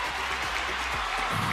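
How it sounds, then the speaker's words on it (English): Short, steady applause during an online music-making party, a continuous wash of clapping over a low hum. "Round of applause for Susanna, everybody."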